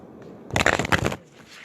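A Medicine Woman oracle card deck is shuffled by hand, giving one quick, close riffling burst of flicking cards that lasts under a second and stands alone in the quiet.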